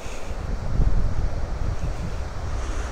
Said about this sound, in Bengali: জল আছে অল্প কিন্তু স্রোত প্রচণ্ড